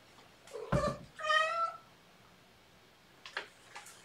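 A house cat meows twice close by, a short sharp cry followed by a longer, drawn-out call, then two fainter, brief meows after a pause in a quiet room.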